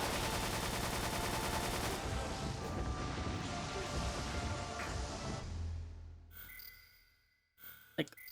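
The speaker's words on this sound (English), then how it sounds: "So it's, I guess, Gatling gun time now." A Gatling gun fires in a video game as a dense, loud, continuous roar of rapid shots lasting several seconds, then cutting off into near silence with a few faint clicks.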